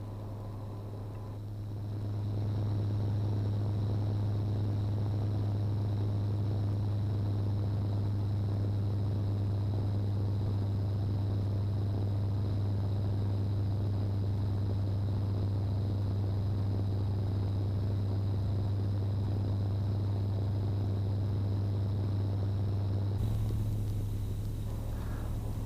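A light aircraft's engine drones steadily in flight near Wanganui, New Zealand, a loud constant low hum heard from inside the cabin that holds unchanged throughout.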